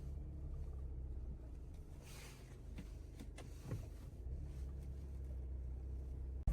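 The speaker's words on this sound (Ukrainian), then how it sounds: "Погазую ще." A 2016 VW Golf Alltrack Highline 4Motion 2.0 diesel engine running at low, steady volume, a soft continuous rumble with faint mechanical ticks and a sharp click at the very end.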